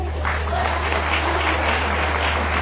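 Steady applause from a crowd of women at a Livelihood Mission gathering with Shivraj Singh Chouhan, dense and continuous throughout, with a low hum underneath.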